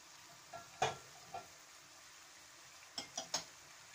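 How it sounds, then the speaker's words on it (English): A few scattered, quiet scrapes and taps of a utensil stirring chopped tomatoes as they fry in a pan, in a short burst early on and a quick cluster near the end, with near silence in between. "Then we are going to add chopped tomatoes. Stir a few more moments."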